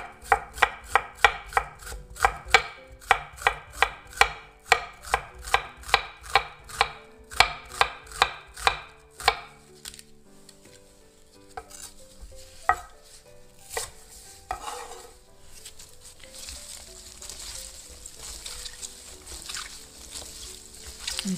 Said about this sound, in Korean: 채소를 다 이렇게 썰었습니다.